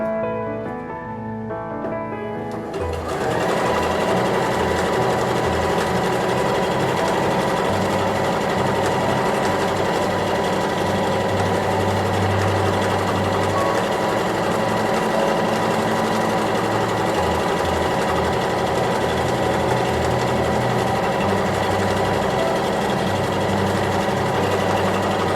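Sewing machine running steadily while stitching a seam on a Regency shift, a continuous close, loud mechanical whir with fine rapid stitch rhythm after a quieter start.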